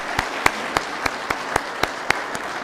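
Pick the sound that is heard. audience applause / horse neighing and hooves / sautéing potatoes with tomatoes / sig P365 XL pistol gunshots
audience applause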